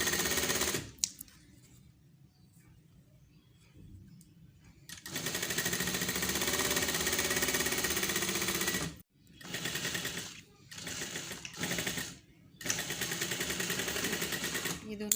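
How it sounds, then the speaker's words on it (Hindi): A sewing machine stitches the sleeves onto a shirt in loud, rapid bursts, first one long run and then several shorter ones separated by brief pauses, after a quiet stretch at the start. "अब इसकी स्टिचिंग कर लेते हैं।"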